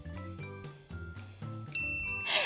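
A bright notification bell ding rings out over a bouncy musical jingle, the clear chime sounding near the end above the repeating plucked notes.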